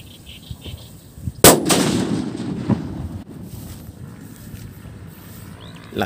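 A Spider kwitis firecracker, a big homemade one, goes off with a single sharp loud bang, and the blast decays into a rumbling tail. Fainter pops follow, with quiet outdoor background before and after.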